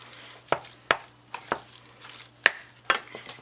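Canned refried beans get mashed in a pan over medium-low heat: six or so separate soft thuds and squishy taps, spaced irregularly, close and fairly loud against a quiet background.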